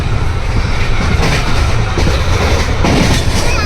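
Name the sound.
train running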